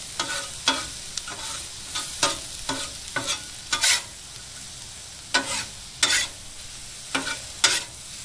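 Onions frying in oil and bacon grease on a Blackstone 22-inch griddle, a steady sizzle broken by repeated scraping and stirring strokes from a spatula, with no talking.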